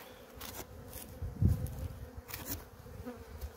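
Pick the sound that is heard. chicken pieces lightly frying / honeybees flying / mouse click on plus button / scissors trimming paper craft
honeybees flying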